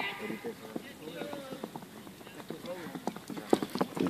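Horse hooves clip-clop at a ridden horse race event, a run of sharp knocking beats that grows busier and louder toward the end, heard beneath people talking.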